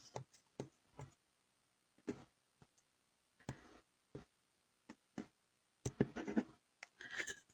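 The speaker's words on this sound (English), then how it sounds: "I'm just trimming the fuzz off." Fuzz trimmed off a fabric-covered micro notepad holder, heard as a series of brief, faint snips and scratchy clicks at irregular intervals, close by and quiet, with a denser cluster of small cuts near the end.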